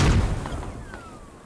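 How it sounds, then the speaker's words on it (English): A single mortar round from the video game Squad bursts in a loud, sharp boom at the start, and a long rumbling tail then fades away with no voices over it. "That might be enough spread on these mortars. That was just one round."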